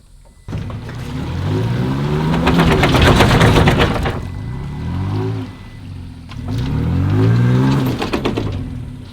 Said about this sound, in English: He's trying the old crawl mode on the Toyota.